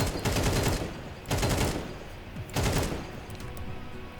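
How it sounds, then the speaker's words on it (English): Short tapped bursts of rifle fire shot through a wall in the video game CS2, three loud volleys in quick succession, each a dense rattle of rapid shots. "We're going to be aiming at the bottom of it and just tapping and doing slight bursts here."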